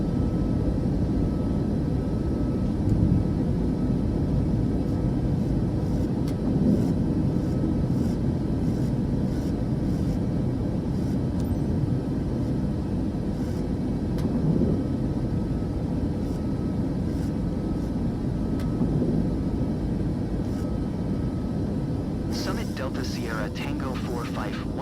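A simulated airliner rolls down the runway for takeoff in Microsoft Flight Simulator 2024, its engines producing a continuous loud roar that holds steady for the whole stretch, with a brief burst of higher noise near the end.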